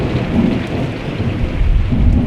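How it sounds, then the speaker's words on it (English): Thunder rumbles low and steady through a rainstorm, a continuous heavy roll mixed with the hiss of falling rain, loud and close with no voices. "I just saw the lightning and then here's the thunder."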